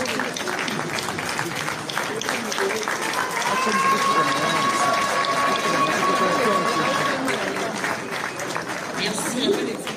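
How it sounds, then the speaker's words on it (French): An audience at a political party rally applauds the party's founding members, who have come from every province of the country: sustained, dense clapping and crowd noise lasting several seconds, swelling in the middle, with a voice over a loudspeaker carrying on above it. "sous vos applaudissements des membres fondateurs de l'FDC venus de toutes les provinces du pays"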